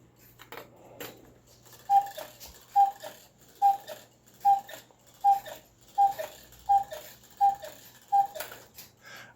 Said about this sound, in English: it now cuckoos on the half hour.